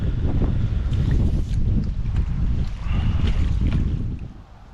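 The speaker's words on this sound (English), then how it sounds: "So that wind has really started to pick up a bit more than I would have liked" Strong wind gusts across a fishing lake at Lodge Farm during a club fishing match, a loud, steady roar buffeting the microphone with brief lulls and no voices.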